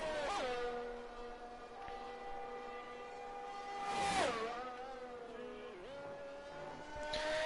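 Aston Martin Formula 1 car in F1 22 at the Canadian Grand Prix hairpin, its engine a steady high whine that drops sharply as it brakes into the tight corner, then rises again on exit, moderately loud and continuous.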